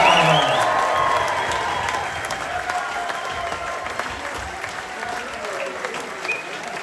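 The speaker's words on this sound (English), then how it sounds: "Can we give a massive round of applause for Mr. Pat Murphy" An audience at a traditional Irish music and dance event in Tubbercurry gives a big round of applause with cheers and whoops, loud at first and tapering to steady clapping.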